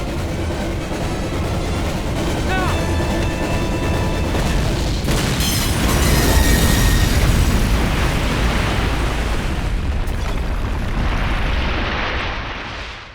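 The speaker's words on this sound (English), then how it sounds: "that explosion is too beautiful to subvert" A train blown up by planted bombs in Call of Duty erupts in a loud, booming explosion that swells into a long roaring rumble with crackling debris before dying away near the end.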